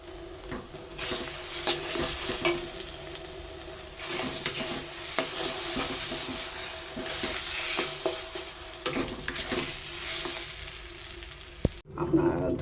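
Salt, turmeric and chili powder frying in oil in a wok make a steady close sizzle, broken by scraping stirs and an occasional clink of a utensil against the pan.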